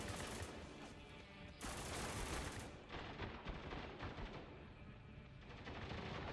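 Gunfire in the video game Spec Ops: The Line, a dense run of rapid shots and bursts, loud and continuous, with overlapping volleys and no speech.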